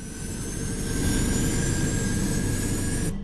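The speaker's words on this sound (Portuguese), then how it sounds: "Decolagem a toda potência." A jet airliner taking off at full power, a loud, steady engine roar with a sustained high whine holding throughout, no voices.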